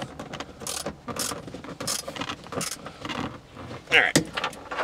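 Ratcheting wrench clicks and metallic mechanical clatter come up close while a middle bolt is tightened on a 1995 Lexus SC300 that runs then dies, working in short bursts with brief pauses.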